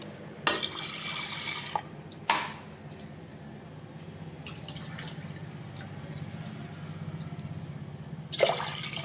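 Water from two glasses splashes in short, faint bursts into washed dal being readied for mudda pappu, with a quiet pause between the pours.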